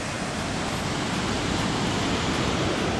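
Cascade Falls at Christina Lake, British Columbia roars as a dense, constant rush of falling water, loud and close without a break.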